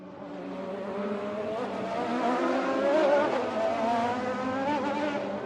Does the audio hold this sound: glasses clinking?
no